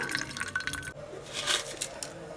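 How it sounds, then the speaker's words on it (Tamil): Water from boiled kumuti keerai greens drains through a strainer in a short, close splashing trickle with a few drips and a glassy clink. "இப்போ இதை தண்ணி வடிகட்டிக்கலாம்"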